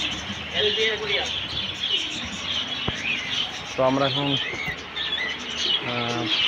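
Several short bursts of bird chirping and tweeting in a pet shop, against a busy indoor background, with a person talking over them.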